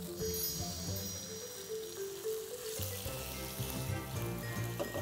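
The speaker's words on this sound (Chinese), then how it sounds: "这个步骤呢我们来煎豆腐。" Firm tofu, pressed dry with kitchen paper, pan-fries slowly over low heat with a steady, soft sizzle and faint tonal sounds in the background.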